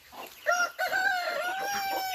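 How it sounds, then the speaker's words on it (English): Growing chicks in a farm pen give clucking, crowing-like calls, several loud close cries with rising and falling pitch overlapping in quick succession, no talking over them. "How are we doing in here, little chicks, little chicks?"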